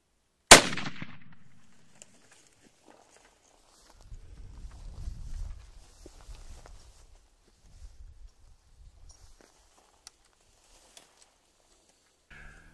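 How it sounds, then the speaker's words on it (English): A single sharp, loud .300 Winchester rifle shot fired with Hornady GMX ammunition at a blue wildebeest bull during a Namibian hunt rings out and decays quickly. Faint rustling footsteps follow in a quiet outdoor setting. "300 Winchester shoot was through the heart."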